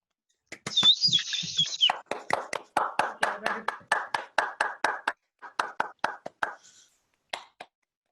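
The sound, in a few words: applause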